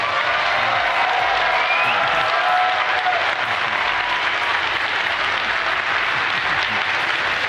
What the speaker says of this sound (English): Please join me now in giving a big round of applause to Mr. Ishihara.